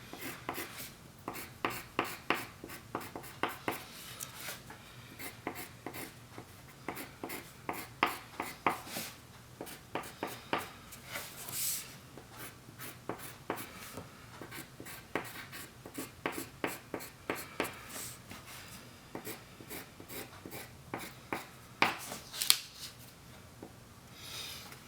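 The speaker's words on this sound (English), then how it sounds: "I'm gonna grab my dark green now and draw in the shadow." Pencil or marker strokes in dark green scratch steadily across paper while shading a shadow on a drawing of the Pokemon Caterpie, with quick repeated scribbles close and clear, no talking.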